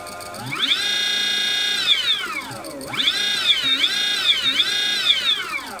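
A Colossus 120100 outrunner motor driven by a 12-FET VESC controller in field oriented control spins up with a loud rising electric whine, dips briefly, then revs up again with wavering pitch sweeps, with no talking over it.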